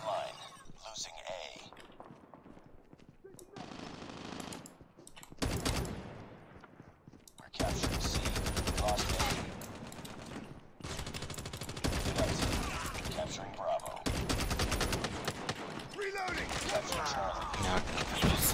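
Automatic weapon fire in the mobile shooter Call of Duty Mobile, long sustained bursts of rapid shots separated by short gaps, loud and close, with people talking during the firing.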